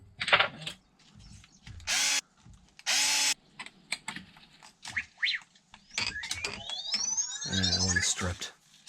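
Power driver spinning screws into the differential of an Arrma Typhon 6s RC car, several short whirring bursts separated by pauses, with plastic clicks and a voice speaking between them.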